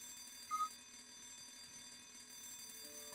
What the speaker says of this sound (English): Now the alarm's ringing.